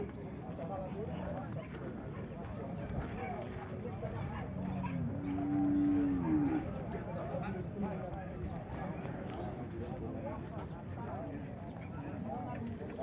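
Cattle at a livestock fair in Limoeiro, Pernambuco, give a short low moo in the middle, under a busy crowd murmur and someone talking over a loudspeaker.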